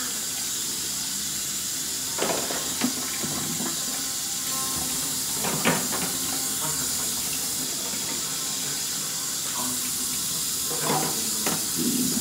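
Hot water runs steadily from a tap into a sink, a constant close hiss and rush of flow, with a few brief clinks and knocks over the stream and no talking.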